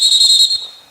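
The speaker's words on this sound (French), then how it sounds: "Vous sifflez." Sharp, shrill referee whistle blown during a training session, a loud sustained blast that cuts off abruptly, followed by a faint short trailing tone.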